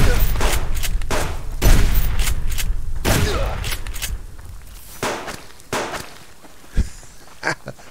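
Gunfire in the survival game Subsistence, with a rapid run of sharp loud shots that thins into sparser, fainter bangs and thuds.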